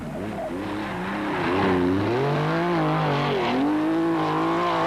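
Porsche 911 SC RS rally car of the Belga RAS Sport team in the 1984 Belgian rally championship, its engine note rising and falling in loud, steady harmonic sweeps as it accelerates and shifts along a road.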